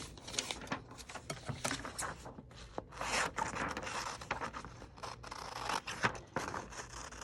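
Scissors cut paper for a handmade craft envelope, giving a long, close series of crisp snips and rustling slides at an uneven pace.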